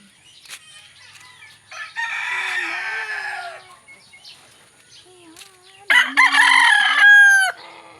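Roosters crow loudly nearby, two long drawn-out calls separated by a pause, with chickens clucking softly in the background.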